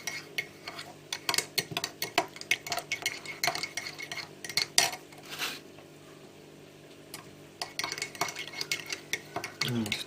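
A metal spoon stirs a pot of dinner, giving clustered clinks and scrapes against the pan that pause briefly midway and then resume, close and fairly quiet with no talk.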